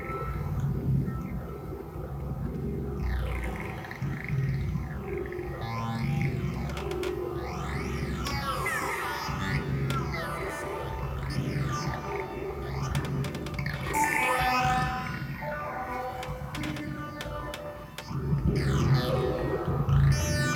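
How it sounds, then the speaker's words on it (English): An abstract, non-rhythmic generative drone from a 0-Coast synthesizer patched as four oscillators swirls with sweeping, whale-like pitch glides and warbling tones, steady and moderately quiet throughout. "Some abstract, non-rhythmic, generative music, if you want to make it sound fancy."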